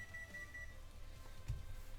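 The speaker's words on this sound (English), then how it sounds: "Oh, that's the timer." A kitchen oven timer beeps in a short run of electronic tones early on, fairly faint against quiet room background, with a light knock later and no talk.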